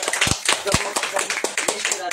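A church congregation in Kolakuchi, Assam claps in quick, uneven bursts, close and lively, with some voices mixed in underneath.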